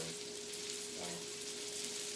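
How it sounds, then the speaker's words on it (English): Steady, low sizzling and crackling of blueberry pancakes in a hot pan, continuous and fairly quiet, with a faint constant hum underneath and no voices. "And you can hear them sizzling away."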